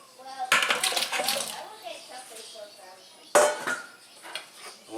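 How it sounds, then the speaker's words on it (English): Potatoes are tipped into a soup pot of beef and vegetable soup, giving two sharp clattering splashes, the first a longer tumbling rush and the second a brief thud, each fading into soft rattling. "I'm gonna dump these taters in there."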